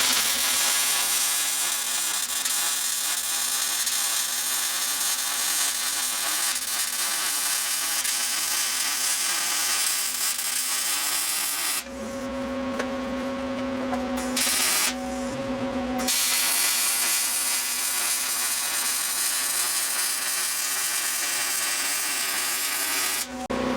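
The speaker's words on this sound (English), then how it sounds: "So right now I'm welding downhill, and then I'll go back over it and go uphill." Welding downhill on a Ford Bronco II body, a steady harsh crackling buzz close up that runs continuously, breaks twice briefly into quieter humming gaps, then resumes.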